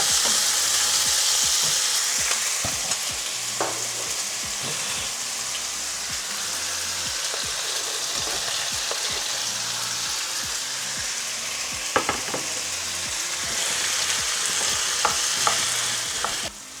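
Loud, steady sizzling and crackling of chicken and onion frying in a hot pan, with occasional stirring scrapes and clinks.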